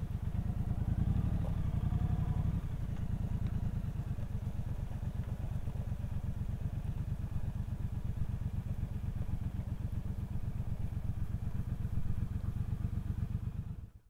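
A 2022 Triumph Bobber Goldline Edition motorcycle idles close by, its steady low engine pulse loud and continuous, dropping slightly in level early on and then running evenly until cutting off at the end.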